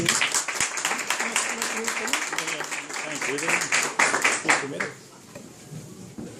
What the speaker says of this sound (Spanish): pido que lo recibamos con un caluroso aplauso